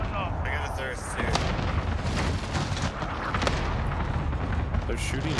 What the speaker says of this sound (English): They're shooting into my building